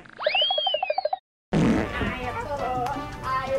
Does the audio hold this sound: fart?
yes